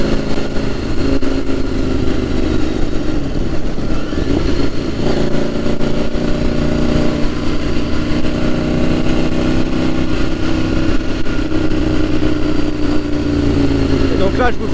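A new motorcycle's engine runs steadily at a loud, close, even idle, thrumming without break for the whole stretch, with people talking over it.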